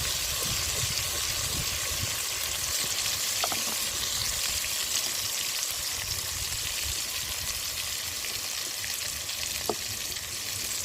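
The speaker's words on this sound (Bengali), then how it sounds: "টমেটোগুলো তেলের মধ্যে দিয়ে একদম কষিয়ে নেবো তেলের মধ্যে" Chopped tomatoes frying in hot oil for an egg, potato and lentil-dumpling curry, giving a steady, dense sizzle throughout with a few faint clicks of stirring and no talk.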